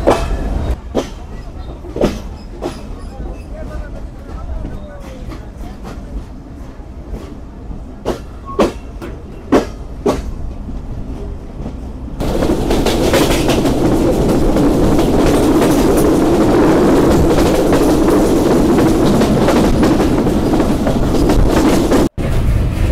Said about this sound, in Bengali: খেলিয়ে দুলিয়ে সবাইকে নিয়ে চলছে আন্তনগর বাংলাবান্ধা এক্সপ্রেস